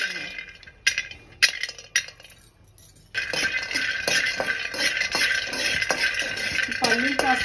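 Peanuts roasting in a pan for makhana ladoo: a few sharp metallic clinks and stirring scrapes first, then a steady dense sizzle and rattle of nuts shifting against the hot metal.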